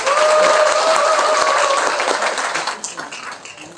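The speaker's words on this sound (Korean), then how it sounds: "다시 한번 큰 박수 부탁드리겠습니다" Audience applause following a lecture at a labor committee launch event in Cheongju, steady and dense at first, then thinning out and fading over a few seconds.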